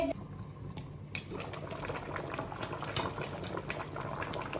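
A covered pot of matoke with beef simmers in red water, giving a steady low bubbling and gurgling that stays even and fairly quiet throughout.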